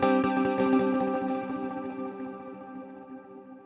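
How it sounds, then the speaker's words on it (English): Picked guitar notes run through a Strymon Nightsky reverb pedal on its Sparse texture, each note followed by distinct rhythmic echo repeats that trail into a fading wash, close and alone with no voices. "you can hear there that we've got this distinct kind of repeat going on"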